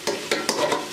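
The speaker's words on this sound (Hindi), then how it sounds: "अब हम इसको 1-2 मिनट के लिए भूनेंगे।" Biryani ingredients fry and are stirred in a pot: four quick scraping strokes of a spoon over a loud, close sizzle, rhythmic and brief.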